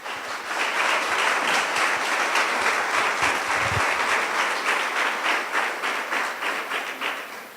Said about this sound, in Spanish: Y si está contento, pues dele palmas al que vive.